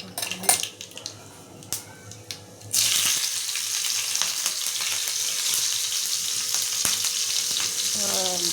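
Stuffed green chillies (bharwa mirchi) frying in a home pan: a few clinks of utensils, then a loud, steady hiss and crackle of splattering oil that fills the rest of the clip.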